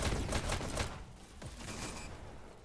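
In the Hyper Dash VR esports match, a rapid burst of gunshots rattles off in the first second, followed by a few softer scattered shots, all fairly faint.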